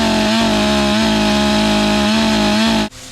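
A big Stihl chainsaw with a 32-inch bar runs at a steady, loud, high whine during land clearing, with a few brief dips in pitch under load before it cuts off abruptly near the end.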